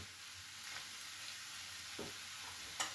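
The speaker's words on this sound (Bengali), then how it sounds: "এবার এটা ভাজা হতে থাক" Vegetables softening as they fry in a pan, a quiet steady sizzle with faint crackles, fairly soft and even throughout.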